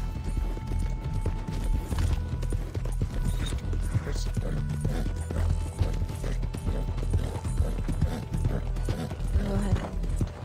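Horse hooves clip-clop steadily in the video game Red Dead Online, a continuous rhythmic trot mixed with game sounds and a low rumbling background.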